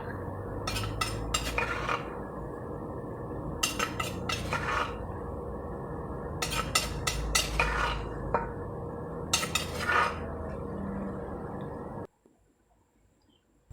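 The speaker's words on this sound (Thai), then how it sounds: "คนให้เข้ากันทุกอย่างนะครับ" A spoon clinks and scrapes in a bowl while dipping sauce ingredients are stirred together, in repeated rapid bursts of knocking over a steady background, ending abruptly in near silence.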